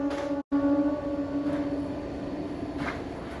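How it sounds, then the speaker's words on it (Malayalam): A train passes near a house, a sustained rumbling drone with a steady tonal hum that swells and fades slightly, heard from close by without speech. "ഇവിടെ ഇരിക്കുമ്പോഴേ തന്നെ ശരിക്കും പറഞ്ഞാൽ നല്ല ട്രെയിനിൻ്റെ സൗണ്ടും ഒരു കാഴ്ചയും"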